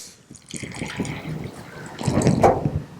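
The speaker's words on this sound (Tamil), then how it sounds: "பண்ணை பால் காய்ச்சி அழகாக அப்படி ஒரு கிளாஸில் ஊற்றிக்கிடுங்க" Hot boiled farm milk pours into a glass in a close, gurgling stream that swells and fills toward the end, with a faint background voice.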